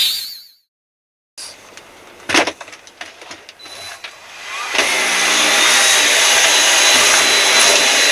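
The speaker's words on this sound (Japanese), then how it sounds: "ここゴミがあるので一度掃除機をかけます。" A vacuum cleaner run inside a camper van, starting after a short silence with some knocks and handling noises, then a loud steady whine that holds to the end.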